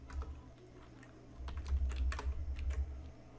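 Light, quick keystrokes on a computer keyboard, typing text in short irregular bursts, close and fairly quiet, with a brief pause before a denser run of taps.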